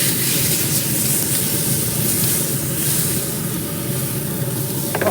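Steaks searing in bacon grease on a Z Grills pellet grill give a loud, steady sizzling hiss that runs unbroken and close throughout.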